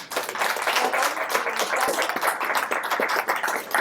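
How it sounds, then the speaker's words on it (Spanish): A crowd at a Spanish-language radio event applauds steadily for the full stretch, a continuous wash of many clapping hands at moderate loudness with no pause. "un gran aplauso para"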